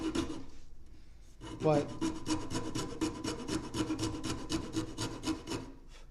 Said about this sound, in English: I like just rasping the things and get slowly getting the shape I want.